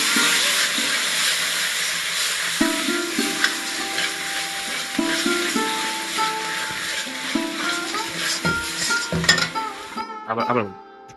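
Spice paste mixed with beaten sour yogurt frying in a pan for a fish curry, with a soft sizzle, clinks of a spoon against the pan and stirring scrapes under background music.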